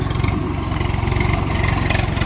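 A tractor engine idles steadily at a Gujarati village Holi celebration, a continuous low rumble with a regular throbbing pulse that holds even and close throughout, with no talk over it.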